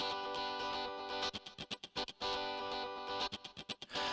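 Distorted electric guitar voice from a Korg Pa4X arranger keyboard with a distortion insert effect, playing sustained, buzzy chords broken by a run of short choppy stabs near the middle and again toward the end.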